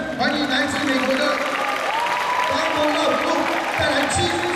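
An audience applauds to welcome the American aerial dance troupe Bandaloop at an arts festival performance; the clapping is steady and full, and a voice carries over it.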